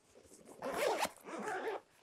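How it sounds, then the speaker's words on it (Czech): Two-way zipper on a pocket of a Highlander Stoirm 40 L military backpack being pulled, two quick close rasping strokes with a brief pause between them. "Kapsa je uzavíraná dvoucestným zipem."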